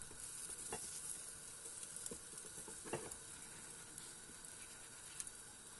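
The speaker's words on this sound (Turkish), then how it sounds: "Tahta kaşıkla karıştırıyorum hafifçe" A wooden spoon gently stirs tomatoes, egg and kaşar cheese in a sizzling pan, soft scrapes and occasional clicks over a steady low frying hiss.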